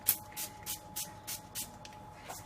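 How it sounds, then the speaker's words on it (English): Fry Light cooking oil spray misted onto a pan in short hissing bursts, about seven evenly spaced puffs over a faint steady hum, close and fairly quiet. "I'm just going to spray the pan with my fry light"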